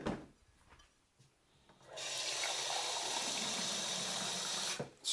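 About 500 ml of water poured into a mixing bowl of cream of rice: a steady, loud rushing pour lasting about three seconds, preceded by quiet handling clatter and ending abruptly.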